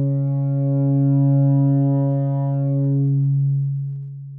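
A steady sine tone runs through a Culture Vulture distortion unit as the drive is raised, and buzzy harmonics swell and then fade back to a purer hum, with no one talking.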